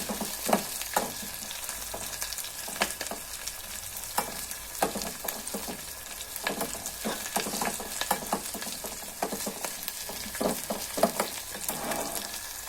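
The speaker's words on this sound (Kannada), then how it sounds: "ಇವಾಗ ಈರುಳ್ಳಿ ಚೆನ್ನಾಗಿ ಫ್ರೈ ಆಗಿದೆ." Onion and garlic sizzle and crackle steadily in a hot pan while being cooked for a fenugreek-leaf dal, with irregular sharp pops and occasional stirring scrapes, close and continuous without speech.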